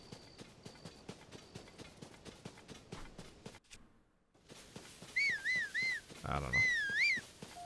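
Hooves of a horse in Zelda: Tears of the Kingdom trot in an even clip-clop, then stop; after a brief lull come warbling whistle-like game tones and a short spoken phrase.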